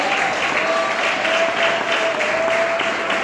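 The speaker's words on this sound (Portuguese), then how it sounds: "Palmas para Jesus." Steady applause from a crowd, continuous clapping throughout with a faint sustained tone underneath.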